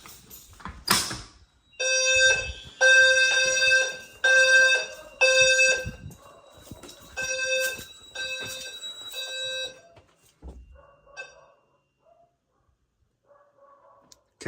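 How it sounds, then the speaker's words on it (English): A fire alarm system goes into full alarm after a pull station is pulled, sounding loud repeated horn-and-strobe tones in pulsing bursts that then stop, leaving clicks and faint chirps behind. "We've put the system into full alarm."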